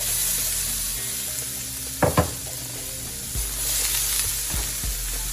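Grated tomatoes hitting a hot pan for sea bass, setting off a steady loud sizzle with a couple of sharp splattering bursts and light stirring scrapes over the constant frying hiss.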